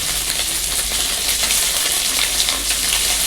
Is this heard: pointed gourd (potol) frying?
yes